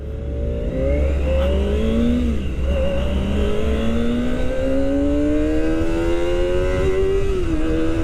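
A Kawasaki Ninja ZX-25R sport motorcycle engine winds up steadily through a gear, pitch rising continuously, loud and close with a constant roar.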